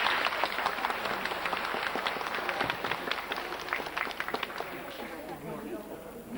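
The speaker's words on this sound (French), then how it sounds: "tous deux méritent tous vos applaudissements." Applause from a village assembly audience honoring two people, a dense steady patter of hand claps at moderate distance that slowly thins toward the end, with faint voices mixed in.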